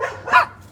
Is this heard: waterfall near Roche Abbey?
no